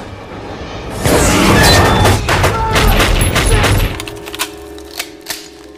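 Gunfire in a fight scene from Alien vs Predator: a dense, loud burst of shots and booms lasting a few seconds, then a low hum with a few scattered thuds as the noise dies away.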